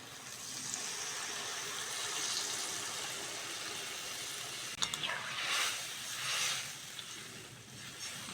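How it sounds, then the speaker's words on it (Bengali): Water poured into a cooking pot while making a preserved hilsa fish curry with taro and potato, a steady soft hissing splash running throughout, with a few brief clinks near the end. "এবার জল দিয়ে দেবো"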